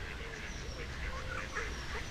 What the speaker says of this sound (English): Oh, some little baby ducks.